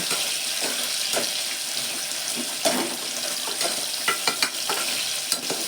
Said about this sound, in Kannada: ಈರುಳ್ಳಿ ಒಂಚೂರು ಚೆನ್ನಾಗಿ ಹುರ್ಕೋಬೇಕು. ಸ್ವಲ್ಪ ಫ್ರೈ ಆದರೆ ಸಾಕು ಈರುಳ್ಳಿ.